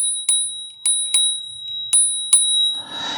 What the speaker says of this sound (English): it also has an integrated bell